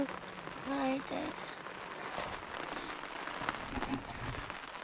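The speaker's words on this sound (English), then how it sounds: "Bloody rain." Steady rain hisses across the whole stretch, a broad wet wash with small scattered taps, while a voice speaks briefly near the start and again further on.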